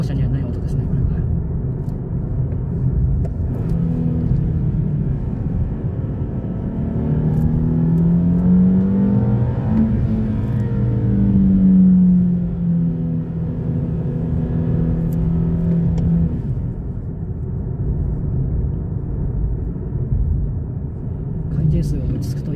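Nissan Fairlady Z naturally aspirated engine revving hard to a high-pitched, shrill tone, climbing and peaking mid-clip before easing off, loud and continuous from inside the car.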